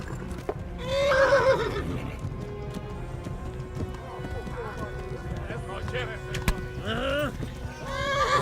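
Horse whinnies loudly several times in the Kingdom Come video game, with clip-clopping hooves running underneath; someone talks over parts of it.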